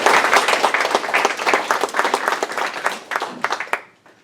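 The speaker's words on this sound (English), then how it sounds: "I'd like to give him a round of applause." Audience applauding at an Arbor Day celebration, a dense burst of clapping from a crowd that holds steady for about three seconds, then thins into scattered claps and fades out.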